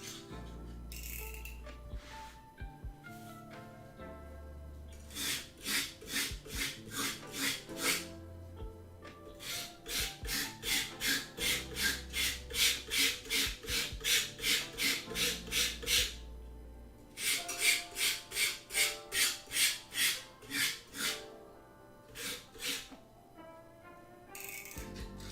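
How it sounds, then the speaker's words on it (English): A craft blade is sharpened with quick rhythmic scraping strokes in several runs of rapid passes separated by short pauses, over a faint tonal background. "I need to sharpen my blade."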